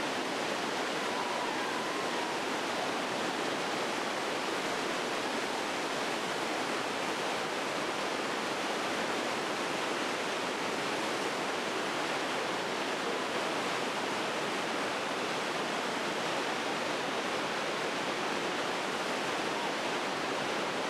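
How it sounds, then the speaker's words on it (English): Nile river rapids at Jinja, Uganda, a constant broad roar of rushing whitewater, loud and unbroken throughout, with no voices over it. "Towards noon, the last of the rafts are coming down the river to shoot the rapids."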